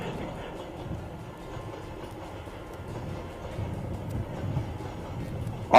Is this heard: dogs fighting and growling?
no